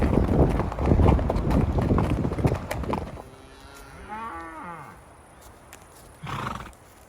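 Cattle from a herd that has strayed past a broken fence into high Colorado desert pasture moo in a few long, drawn-out calls after a stretch of loud wind-like noise. One cow bellows near the start and another calls again near the end.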